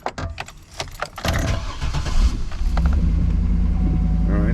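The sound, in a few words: car engine starting up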